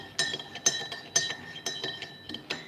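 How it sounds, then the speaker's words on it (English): A spoon stirring a drink in a glass gives light, ringing clinks against the glass, about five or six taps at an even pace, close and clear in a quiet room. "I'm gonna give this a stir."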